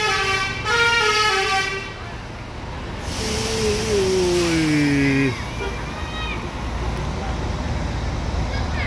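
A bus blows a musical Basuri horn at a busy terminal during the Christmas Eve homecoming rush, with several melodic toots in a sliding, tuneful pattern over crowd and traffic noise.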